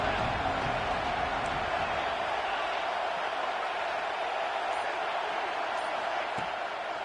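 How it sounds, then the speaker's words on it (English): Stadium crowd in a college football video game, Notre Dame at Oklahoma State, roaring steadily and loudly throughout as a continuous wash of cheering with no breaks. "Down as the crowd gets behind this defense."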